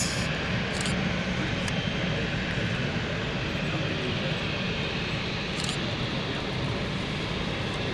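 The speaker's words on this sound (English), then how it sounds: "Right, next inbound we have the Belfast flight." An inbound aircraft on the Belfast flight at London City Airport on a misty day, heard as a loud, continuous broadband engine roar that holds steady throughout, with no one speaking.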